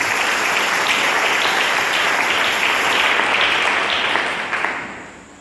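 A church congregation breaks into sustained applause, a dense, steady clatter of many hands that holds at full strength before thinning out near the end.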